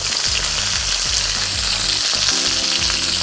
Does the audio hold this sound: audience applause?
no